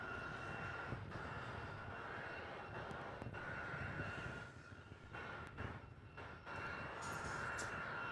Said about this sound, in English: He's a 320 in from Queenstown, New Zealand.